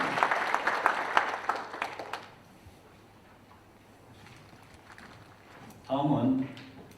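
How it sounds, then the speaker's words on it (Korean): An audience at a Naju City Council policy debate forum applauds the council chairman, with a burst of clapping for about two seconds that dies away, then a quiet room and a short spoken phrase. "이상무 의장님께 큰 박수 부탁드립니다."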